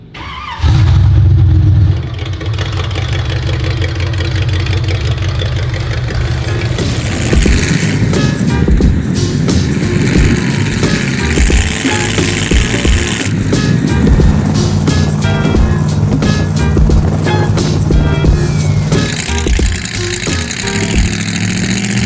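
A WW2-inspired Willys Jeep hot rod with 3.73 gearing driving: after a brief loud start the engine settles into a loud, continuous rumble that rises and falls as it accelerates and shifts.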